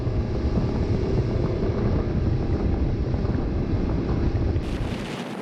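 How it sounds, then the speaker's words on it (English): A Joker Boat Clubman 24 motorboat runs at about 32 knots with its engine at 3,700 rpm, a constant loud roar of engine, wind and hull over water, with the wake and wave slaps blended into the rush. "at 32 knots, the noise of the trail is heard very little, except when it encounters the waves"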